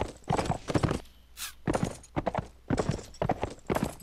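Horse hooves clip-clop in the Mount and Blade: With Fire and Sword game, loud close rhythmic clusters of hoofbeats in quick bursts, with a short sharp hiss between them.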